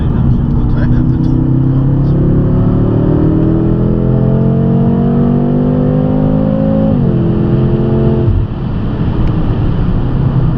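BMW M5 30 Jahre with 600 hp and an Akrapovic exhaust accelerating hard on the Bugatti circuit, engine note climbing steadily then dropping sharply at a gear change before pulling again, loud and close.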